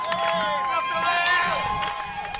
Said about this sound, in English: the Go Hawks fans are to the left-hand side of me are cheering their team on for the start of the second half